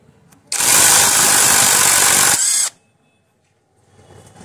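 An Ingco 20V cordless impact wrench loosening a bolt gives a loud, close burst of rapid hammering for about two seconds, then stops sharply, followed by near silence.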